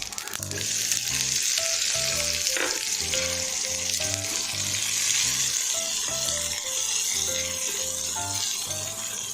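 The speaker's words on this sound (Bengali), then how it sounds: "একটু দিয়ে দেবো একটু জিরে ভাজা, এই গোটা জিরে এবং শুকনো লঙ্কা, তারপরে দিয়ে দেবো পেঁয়াজ" Whole cumin seeds, dried chillies and onion fry in a hot pan, an unbroken loud sizzle under a soft rhythmic musical backing, no voices.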